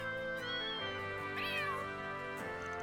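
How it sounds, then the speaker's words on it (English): Several cute cat meows from Trails Beyond the Horizon, recorded in the capital, rise and fall in quick succession over a steady background hum, close and clear. "It plays a collection of cute cat sounds I recorded in the capital."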